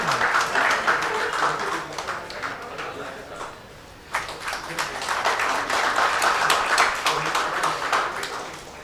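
An audience at a Bhopal mushaira claps to welcome a guest, a dense, steady applause that dips briefly to near quiet midway before swelling again, with sharp individual claps standing out.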